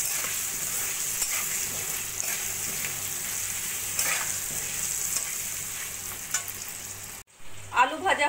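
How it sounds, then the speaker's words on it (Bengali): Boiled potatoes fry in a wok with nigella seeds, salt and turmeric, giving a quiet, steady sizzle with soft stirring scrapes, then a brief pause and a burst of louder spatula scraping at the end. "দিয়ে আলুগুলো ভাজা করতে থাকবো।"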